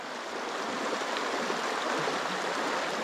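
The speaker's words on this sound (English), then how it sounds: "In this river crossing." A high-country river flowing steadily at a river crossing, a broad continuous rush of water heard close and unbroken, with no voices over it.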